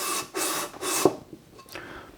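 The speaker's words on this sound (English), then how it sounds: "basically sand them back and forth" Sandpaper scrapes under plaster mold faces rubbed back and forth on a flat countertop, three broad rasping strokes in a steady rhythm, followed by lighter, scattered scuffs, close and fairly loud.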